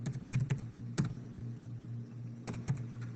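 Quick bursts of keystrokes on a computer keyboard, a few clustered taps followed by pauses, close and fairly quiet over a faint steady hum.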